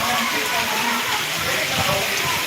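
Dense, steady hiss of rain pouring down, a continuous wash of droplets close by, with faint voices mixed in underneath.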